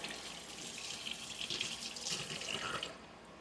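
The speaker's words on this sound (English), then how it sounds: "And then I'm going to rinse." Hands rinsed under a running kitchen tap, a steady close hiss of flowing water with splashing that lasts about three seconds before cutting off, no talking.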